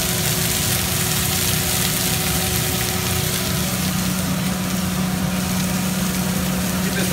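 Garlic and sliced onions fry steadily in a pan for an al forno dish, a continuous close sizzle with a faint low hum underneath and no pauses or voices.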